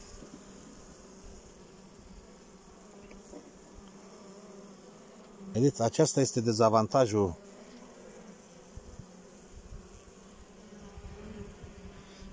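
Honeybees swarm around an opened hive with four frames of bees, a loud burst of dense buzzing lasting under two seconds in the middle, with someone talking quietly before and after.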